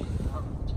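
Geese honk on a fishing lake, a brief burst of loud nearby honking over steady outdoor noise, with no talking.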